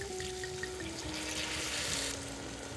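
About a glass of wine pours in a continuous splashing stream into a pot of cooking rice in a home kitchen, close and steady for under three seconds, with a faint tonal hum underneath.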